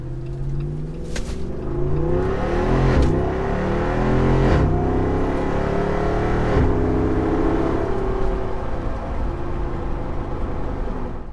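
A Jeep Wrangler 392 V8 engine idles and revs steadily, its deep rumble rising and falling with a few sharper throttle blips, close by with no talking.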